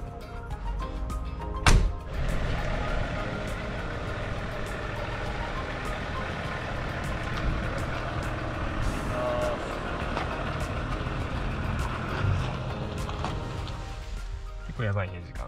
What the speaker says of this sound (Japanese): 自転車ではなく車で病院へ向かう